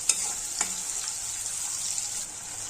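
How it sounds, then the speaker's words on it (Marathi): Chopped onion frying in a pan for a cowpea and fenugreek curry, a steady bright sizzle with a few soft stirring scrapes, close and alone without speech. "कांदा छान गुलाबीसर होईपर्यंत परतून घ्यायचा."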